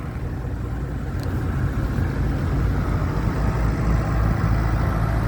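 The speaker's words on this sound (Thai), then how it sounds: "รถไถรถไถ" LC 508 DI 45-horsepower tractor engine running steadily at a fishpond-draining event, a continuous loud low rumble with no talk over it.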